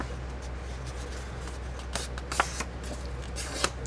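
Sheets of paper being folded and handled at close range, soft rustling and shuffling with a couple of sharp creases snapping near the end.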